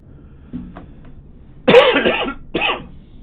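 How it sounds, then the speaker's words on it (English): A soft throat noise, then a sharp loud cough followed by a second shorter cough, close to the microphone. "Still got a bit of a cough"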